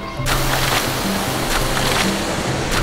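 In a video game, tide waves roll in against a shore as a continuous loud wash of surf, with a few brief, brighter surges breaking through.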